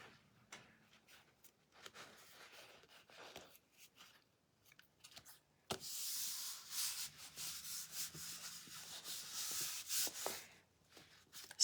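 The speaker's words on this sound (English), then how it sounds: "I'm taking this piece here and I'm just rubbing it with my fingertips" Fingertips rubbing a painted wooden knife block, a soft dry scuffing that comes in faint bursts, then grows into a steadier, brighter rub in the second half, close and quiet with no talking.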